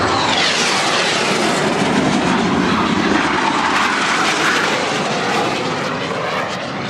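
An aircraft flies past at the Southport Airshow 2011, a loud, continuous engine roar that fills the whole stretch with no voices.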